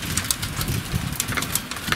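Dense, irregular patter of small pellets striking surfaces, loud and close, with sharp clicks scattered through a constant rushing hiss.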